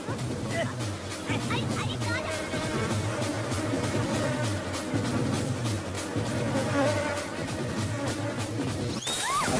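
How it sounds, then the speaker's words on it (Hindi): A bee hums steadily and persistently close by, a continuous drone running under lively voices and background chatter. "ये मक्खी नहीं मधुमक्खी है।"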